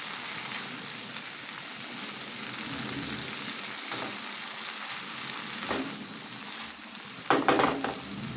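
Meatballs fry in a pan with a soft, steady sizzle, joined by a few light scrapes and clinks of a utensil stirring near the end, with no voices.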